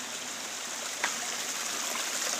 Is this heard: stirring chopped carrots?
no